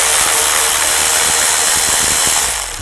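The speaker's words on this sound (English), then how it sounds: "Take this nut off." A ratchet with a 10mm socket spins off a nut on a 2000-2006 Chevy Tahoe, a loud, close, rapid buzzing of clicks that runs steadily and eases off at the end.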